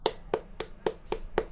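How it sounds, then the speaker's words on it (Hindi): Six sharp hand claps spaced evenly about a quarter second apart, crisp and fairly close, with no voices. "हम जोरदार ताली बजाना चाहेंगे"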